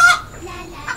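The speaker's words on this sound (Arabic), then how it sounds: "ومن أين جاءت تلك الدجاجة أيضاً؟" A cartoon hen clucks in a short burst at the start, with a faint second cluck near the end over a soft background, no speech.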